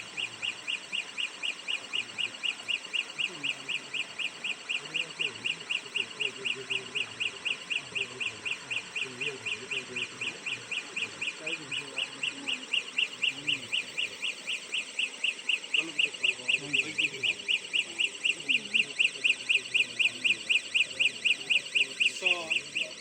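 A community flood early warning alarm at a mountain research site sounds as a steady, high, pulsing electronic beep that keeps going throughout, with faint voices and outdoor background noise underneath.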